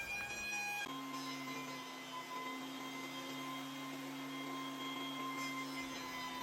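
A Wahuda 8-inch bench top jointer runs with a loud, steady whining drone and sustained tonal hum as it flattens a board, holding constant for several seconds before the tone shifts near the end.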